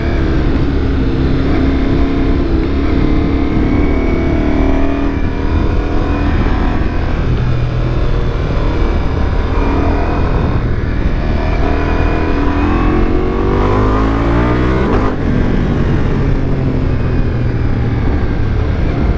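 Ducati Multistrada V4S motorcycle at high RPM shifting up with a quickshifter, a loud continuous engine roar with pitch sweeps at the shifts and exhaust pops.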